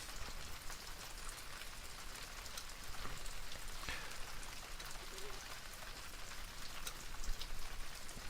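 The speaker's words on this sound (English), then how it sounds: "As you can hear in the background, it's still raining." Steady rain falling on surfaces, a soft continuous patter with occasional heavier drops, fairly quiet and even throughout.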